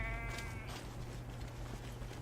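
A goat bleats once at the start in the Assassin's Creed Origins video game, a short wavering animal cry set over a low steady game ambience.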